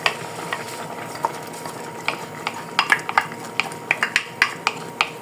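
Washed basmati rice is tipped into a pot and stirred with a utensil. Sharp scraping and clinking taps against the metal sound close and fall into an uneven rhythm, growing denser toward the end, with no voices over them.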